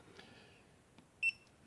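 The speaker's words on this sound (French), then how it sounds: "Double bip, c'est calibré, réglé à 0." An ultrasonic wall moisture meter gives a short high electronic beep as it calibrates, faint and clean against quiet background hiss.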